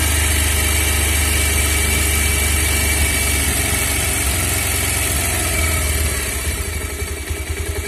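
A car engine idles steadily and loudly while its carburetor is being adjusted. It holds a constant vibrating drone, then grows slightly rougher and uneven near the end, with no voices.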